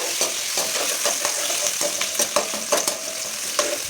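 Soya chunks (meal maker) frying and being stirred in a pan with onions, a steady close sizzle broken by repeated scraping strokes of a spoon against the pan.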